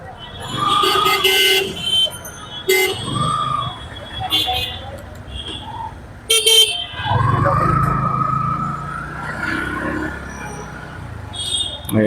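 Main-road traffic in Dhaka near the Fakirapool road, with several short car horn toots and honks over running vehicle engines, loud and close, while someone talks throughout.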